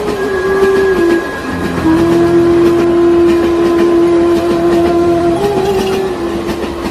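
A cartoon train rumbles along a railway track, a steady loud clatter with a sustained horn-like whistle tone running through most of the passage, no voices.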